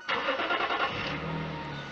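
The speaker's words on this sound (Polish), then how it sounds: "Więc odpalam auto i sprawdzam" A Lexus IS200 engine cranks with a rapid rhythmic churn for about a second, then catches and settles into a steady low idle hum, close and clear.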